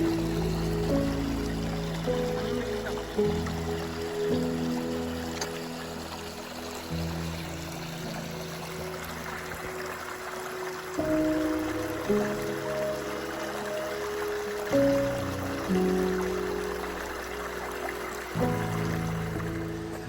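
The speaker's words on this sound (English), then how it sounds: "today we have come on this bridge to look at the baby waterfall" A small waterfall stream at Nojoqui Falls near Solvang, California flows steadily, a soft continuous wash of water under a faint low rumble, fairly quiet and unbroken throughout.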